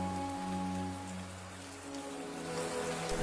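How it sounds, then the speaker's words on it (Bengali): Steady rain falls outside in a cartoon scene with a light gusty wind, a constant wash of patter running the whole time beneath sustained tonal background music that swells toward the end. "বাইরে তখনও বৃষ্টি চলছে, সাথে হালকা ঝোড়ো হাওয়াও বইতে শুরু করেছে।"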